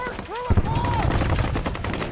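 Incoming gunfire in a Vietnam War battle: sharp shots and bursts crack close by over a noisy background, with whistling streaks overhead and a voice faintly mixed in.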